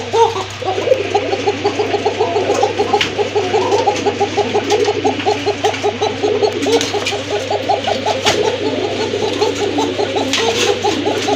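Calling pigeons of the koka type give a rapid, repeated cooing and burbling that runs continuously at close range over a steady low hum, with occasional faint clicks and knocks.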